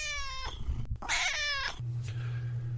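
A female cat meows in a run of drawn-out, harmonic complaining calls, close and fairly loud, with a low steady hum underneath toward the end.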